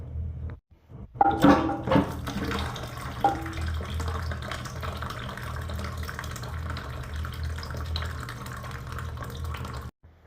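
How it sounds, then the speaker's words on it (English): Water rushes and trickles steadily out of a toilet tank, with a few clunks at the start, then a continuous gurgling drain fading near the end. "any water that's inside of the toilet tank is going to come down"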